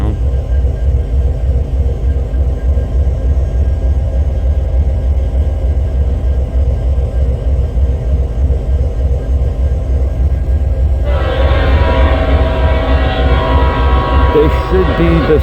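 Southbound main line freight train heading from Sioux City to Hobson Yard, Lincoln, rumbling past steadily and close, its heavy low drone growing harsher and brighter as more cars roll by near the end.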